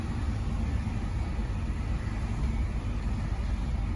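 A Volkswagen Kombi van's engine runs at a steady idle nearby, a continuous low hum and rumble with no speech.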